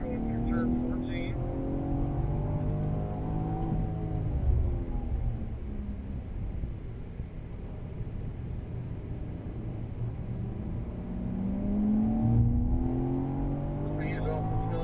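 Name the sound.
BMW car accelerating on race track at COTA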